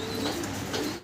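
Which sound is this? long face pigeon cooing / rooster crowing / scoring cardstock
long face pigeon cooing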